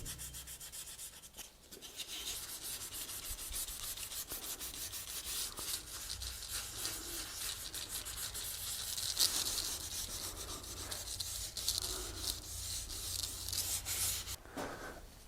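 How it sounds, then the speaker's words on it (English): Wet sanding of a wheel rim by hand with 1200-grit sandpaper dipped in water: continuous close rubbing strokes in a steady back-and-forth rhythm, quiet and unbroken for the whole stretch. "So I dip my sandpaper into a bucket of water and then I can do the hand sanding."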